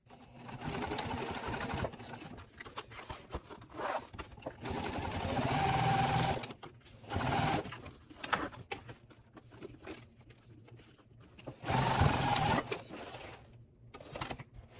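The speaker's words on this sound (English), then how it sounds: "just go and stitch across the whole top edge" Sewing machine stitching across the top edge of a fabric pouch, loud bursts of rapid mechanical whirring and needle chatter lasting one to two seconds each, separated by short pauses and quieter handling sounds.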